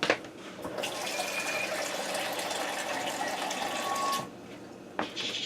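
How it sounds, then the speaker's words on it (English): Water pours steadily from a tap into a pressure cooker pot while making ham pot pie, a continuous close rushing splash that lasts about four seconds and then cuts to a quieter trickle. "I'm going to go ahead and add about 2 more cups of water in there"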